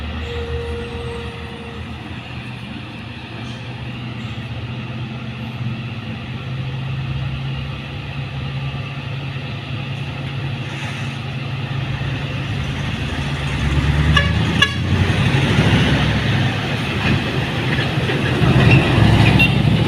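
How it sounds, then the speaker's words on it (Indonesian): A heavy Fuso trailer truck engine drones steadily while climbing uphill and grows louder and rougher toward the end, a continuous low rumble with road noise. "Iya, truk trailer ya."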